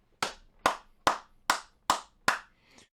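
Six sharp, evenly spaced hand claps from a dad on the sidelines of a high school football game, loud and close with near silence between each.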